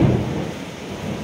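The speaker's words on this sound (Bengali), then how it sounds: "শোনো বিদ্যুৎ চমকাচ্ছে, আকাশ গর্জে উঠছে" Thunder rumbles through steady rain during a monsoon downpour in Kolkata, a low rolling boom loudest at the start and then easing into a continuous dull roar.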